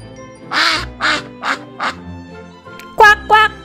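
A cartoon duck quacks in an animated read-aloud of an Eric Carle picture book: four evenly spaced quacks, then a short pause and two louder, brighter quacks close up.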